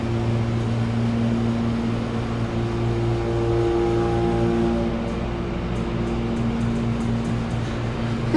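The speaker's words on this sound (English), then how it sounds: "Loud hydraulic motor." Loud hydraulic elevator motor at a science center and children's museum, a steady low drone with humming tones holding throughout, alone.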